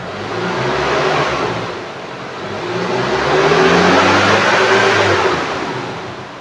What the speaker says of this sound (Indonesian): Suara mesin dari RPM rendah ke RPM tinggi pun masih normal